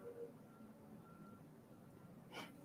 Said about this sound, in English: Hope you can't hear the lorry outside